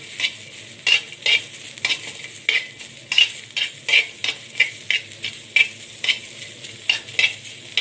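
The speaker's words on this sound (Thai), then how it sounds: "คั่วไฟอ่อนๆ จะได้สุกพร้อมกัน" Ingredients stir-roasted in a pan over low heat, with a steady rhythm of scraping, stirring strokes roughly twice a second against a soft background sizzle, close and clear with no talking.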